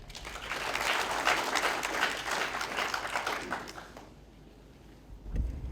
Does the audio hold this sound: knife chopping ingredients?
no